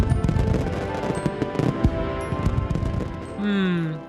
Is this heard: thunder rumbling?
no